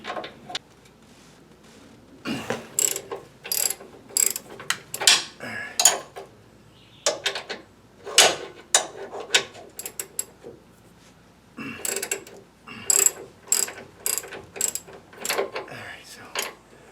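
A hand ratchet loosens 19mm bolts on a 2022 Toyota Tundra during a Rough Country 3.5-inch lift kit install, giving bursts of close, sharp metallic clicking separated by short pauses.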